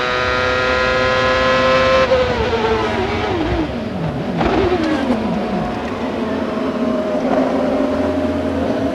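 Onboard a 2001 CART race car at the Detroit street circuit, the engine screams loud and close, its pitch falling under braking and climbing through gear changes as the car accelerates out of corners.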